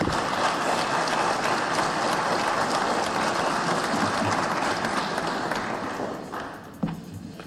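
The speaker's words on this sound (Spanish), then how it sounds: "Lo recibimos con un fuerte aplauso." Sustained applause from a large crowd at a military command ceremony, dense and steady, fading out near the end.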